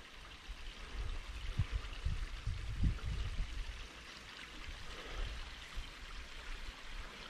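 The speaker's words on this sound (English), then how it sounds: "If I keep quiet, you may be able to hear the sound of water" A small tributary of the Yadkin River gurgles and trickles steadily nearby, a soft continuous babble of flowing water with no voices.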